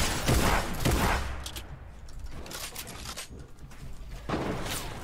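Busy gunfire in a battle royale game, with rapid crackling shots and bursts layered over one another, loud at the start and continuing unevenly throughout.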